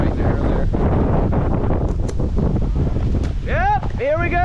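Strong wind buffets the microphone with a constant rushing roar near spruce and oak trees, and a voice speaks briefly over it.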